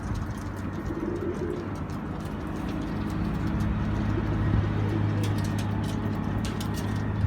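Pigeons in a coop coo in low, throaty, repeated phrases close by, over a steady rumble of traffic in the background.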